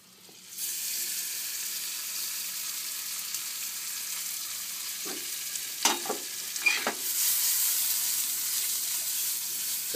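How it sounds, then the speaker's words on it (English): Vegetables sizzle and fry steadily in butter in a pan, a constant close hiss broken by a few brief stirring scrapes near the end, with no talking. "We're just gonna saute this lightly."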